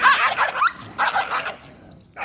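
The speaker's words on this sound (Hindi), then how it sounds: "यार देखो इन कुत्तों को" Several dogs barking close and loud in quick yips and woofs, a burst of overlapping barks, a short pause, then another bark.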